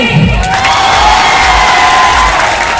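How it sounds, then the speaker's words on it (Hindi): A large crowd at the Bihar Saras Mela claps and cheers loudly, with shouts and whoops over steady, thumping applause that stays at full volume throughout. "तो मैं चाहूंगी कि भाई बिहार वाली ताली"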